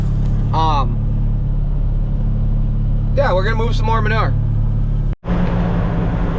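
A truck hauling manure drives along with a steady low engine rumble and drone throughout, while a person talks over it in short bursts.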